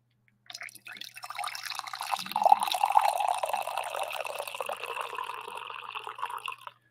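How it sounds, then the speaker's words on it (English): Coffee is poured into a cup in a steady, close stream that runs for several seconds before tapering off. "I do need a little bit more coffee here."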